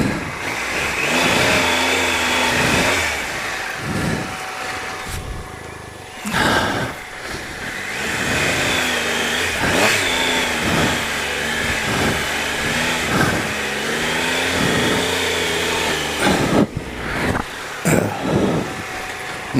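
A motorcycle on road tyres revs and labours on a steep dirt track, the engine rising and falling in repeated surges with wind noise, close and loud for nearly twenty seconds.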